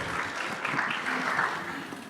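Applause for a presenter at a startup showcase, a steady, moderately loud round of clapping from the audience that fills the whole moment with no voices over it.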